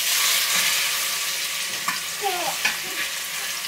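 Chicken for birria browns over low heat in a pan, giving a steady bright sizzle. A few soft stirring scrapes break through near the end, and no one speaks.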